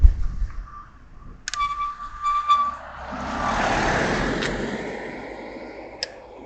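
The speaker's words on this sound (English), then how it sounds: "Oh, car coming." A car approaches and passes on a road, its broad tyre-and-engine rush swelling to a peak mid-clip and fading away, with an earlier tonal beeping and a couple of sharp clicks nearby.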